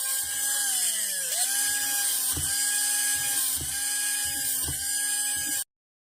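A homemade high-speed mini electric PCB drill whines with a steady high motor tone, its pitch sliding and dipping as the bit bites into the workpiece, with repeated low bursts of load as the hole is cut, then cuts off abruptly.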